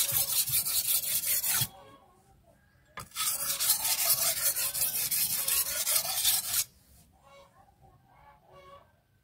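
A steel Banyuwangi arit sickle blade is sharpened with a hand file, giving loud, gritty rasping in two long sustained runs of strokes separated by a brief pause, then quieter scraping. No one speaks.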